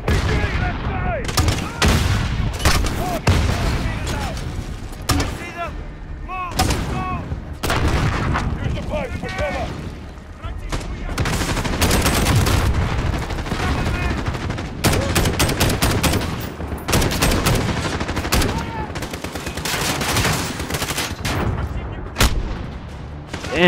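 Dense bursts of gunfire from the video game Modern Warfare in campaign mode, with rapid automatic fire, heavy booms and near-constant shooting across the whole stretch, loud and close, with occasional voices mixed in.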